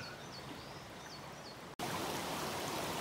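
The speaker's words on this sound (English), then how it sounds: "Just a small stream, I think." A small side stream of the Nishibetsu river in Japan flows with a steady, soft rushing wash, faint bird chirps above it early on, then a brief cut and slightly louder water.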